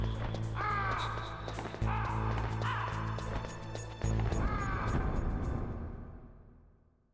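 Crows caw repeatedly in the Metal Gear Solid video game, several harsh calls rising over steady in-game background music and ambience before the sound fades out.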